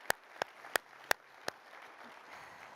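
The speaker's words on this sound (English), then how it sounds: "Round of applause for my board." Five sharp, separate handclaps ring out at a summit keynote, spaced unevenly and fairly faint against a quiet room, before the clapping stops.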